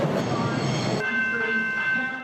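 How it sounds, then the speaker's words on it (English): Steam train at Richmond Station in Melbourne around 1910, heard in archival film as a rumbling roll with a sustained whistle tone and a sudden shift partway through, loud and close. "Steam trains rolled into Richmond Station."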